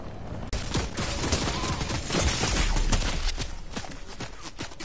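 Video game gunfire, dense rapid bursts of shots rattling almost continuously after a brief quiet start, loud and close, with no talk.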